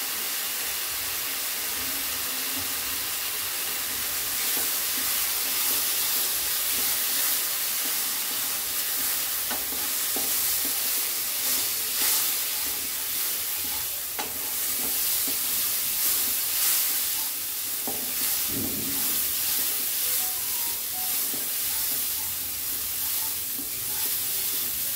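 Pre-roasted moong dal fries again in ghee, giving a continuous close sizzle and hiss with scattered crackles and the scrape of stirring throughout.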